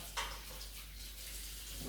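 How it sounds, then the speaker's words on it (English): Spring vegetables being blanched for a salad are tossed under running tap water, a steady soft hiss of flowing water with a brief clatter near the start, quiet and close. "let me toss these real well under the water"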